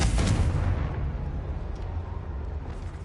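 Confringo fire spell blast in the video game Hogwarts Legacy on PS5, a loud booming explosive burst at the start that rolls off into a rumbling, crackling tail.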